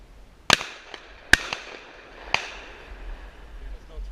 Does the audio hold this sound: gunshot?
yes